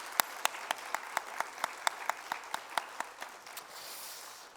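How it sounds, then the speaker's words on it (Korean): Congregation clapping at a church youth worship service, a sparse handful of distinct, evenly spaced claps that slow and fade into quiet room tone. "하나님께 영광의 박수 올려드립니다."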